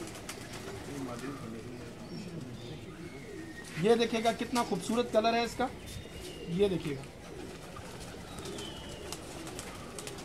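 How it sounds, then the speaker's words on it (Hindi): Rampuri breeder pigeons coo in low, throaty bursts nearby while someone talks over them. "ये रामपुरी कबूतर है सर ये ब्रीडर कबूतर है"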